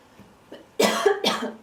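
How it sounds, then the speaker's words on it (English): A person coughs twice in quick succession, close and fairly loud, after a few faint throat sounds. "I'm apparently coughing a lot today."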